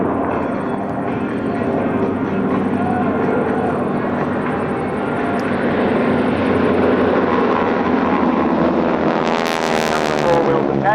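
A vintage Harvard warbird makes an inverted, belly-up pass at an airshow, its loud radial-engine roar sustained and rumbling close by, then shifting in pitch as it sweeps past the crowd.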